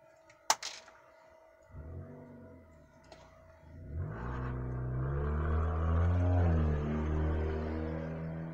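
A sports car with a loud muffler approaches outdoors, its engine note building from faint to a strong, rising rumble that holds for several seconds after a couple of sharp knocks nearby.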